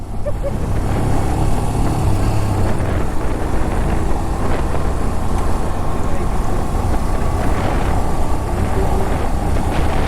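Motorcycle cruising along a highway on a ride from Delhi toward Ladakh, a continuous engine drone buried under heavy wind buffeting on the microphone, loud and steady without a break.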